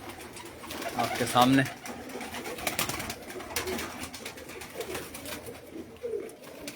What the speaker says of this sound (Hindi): ये मलिक आमिर लंगरे खैल के जो परवाजी कबूतर तैयारी के मराहिल में